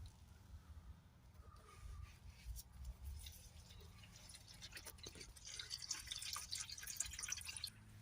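Engine oil drips from the sump of a Volvo V70 D3/D4 five-cylinder diesel into a drain tray. The drips are faint and close, patter irregularly and grow busier toward the end, with no voices.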